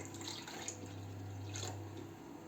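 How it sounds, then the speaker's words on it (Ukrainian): Water poured into boiled, mashed potatoes to make dough for lean Ukrainian potato pampushky: a faint, steady trickling pour lasting a couple of seconds, with no speech. "Тепер додаємо всієї водички."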